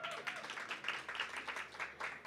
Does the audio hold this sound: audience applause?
yes